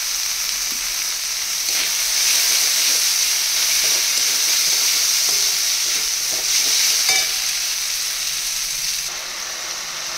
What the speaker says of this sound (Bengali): আদা রসুনটা একটু ভাজা ভাজা হয়ে গেলে এবারে দিয়ে দেব